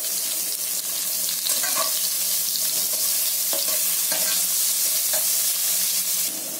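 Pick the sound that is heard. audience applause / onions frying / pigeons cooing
onions frying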